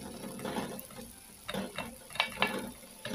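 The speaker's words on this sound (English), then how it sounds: "I'm just going to stir them up together so that the okra can get intertwined" Okra stirred together with tomatoes in a pan over medium heat: a soft background sizzle broken by a handful of sharp, close scraping and clacking strokes, clustered toward the end.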